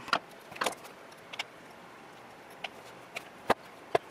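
Metal parts of a 3-jaw lathe chuck clink and tap sharply as it is handled and taken apart, with scattered isolated knocks over quiet background.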